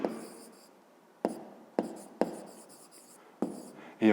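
A pen writes by hand on paper in a math lesson: a few distinct scratchy strokes and taps spaced irregularly, close and fairly quiet, with no talk.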